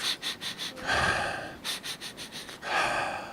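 A voice imitates the shaky, sobbing breaths of a sad crying child: a run of short, quick inhalations followed by a longer breath, repeated twice, close and soft.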